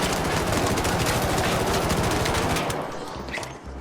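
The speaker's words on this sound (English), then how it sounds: "if you're standing in a building, your gun sounds like this." Gunfire from ARC Raiders heard from inside a building: a sustained rapid automatic burst with roomy, reverberant echo for about three seconds, then a few separate shots as it tails off.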